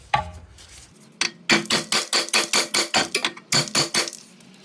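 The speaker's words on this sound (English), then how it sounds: "we can hit it with a hammer" A hammer strikes a car's steel ball joint stud in a split steering knuckle about a dozen times in a steady rhythm, loud and close, each blow ringing briefly.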